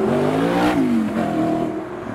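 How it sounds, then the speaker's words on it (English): An Audi R8 engine revs loud and close at a roundabout outside a business park, a steady rising and falling roar with no voices over it. "The R8 is revving"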